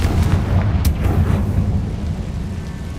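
A Confringo spell explodes in Hogwarts Legacy with a sharp burst, then a deep rolling rumble that stays loud and slowly fades over a few seconds.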